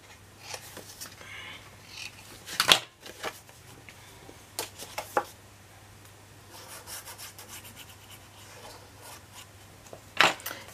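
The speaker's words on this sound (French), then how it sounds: "On marque notre pli et on biseute." A fold being creased into paper card on a crafting table, soft rubbing and scraping strokes with a few sharper brushes, faint and close, no talking.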